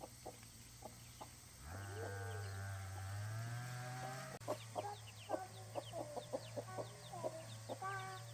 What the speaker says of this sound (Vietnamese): Con gà trắng nhỉ?